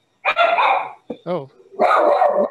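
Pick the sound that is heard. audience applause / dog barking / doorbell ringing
dog barking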